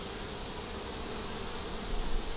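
Honey bees swarm over an open beehive as a frame of nectar, brood and larvae is lifted out, giving off a dense, steady close-up buzz that swells slightly toward the end.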